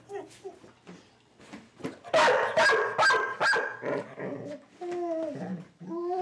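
A dog with separation anxiety barks several times in a loud cluster and whimpers and whines between the barks, fairly close, with some talking around it.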